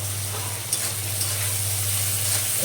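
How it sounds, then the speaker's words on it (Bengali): Onions fry in a pan with a steady, close, even sizzle and a faint stir or two, set over a low constant hum; no one talks. "তো দেখো আমার পেঁয়াজগুলো ভাজা হয়ে গেছে।"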